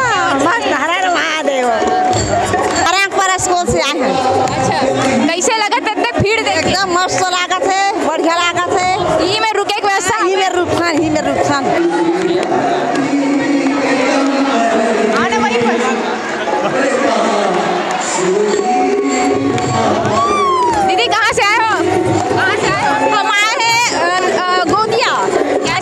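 Dense crowd of devotees packed into a pandal at a night-long religious discourse, a constant babble of many voices with children among them and a loud close-up voice talking over the hubbub.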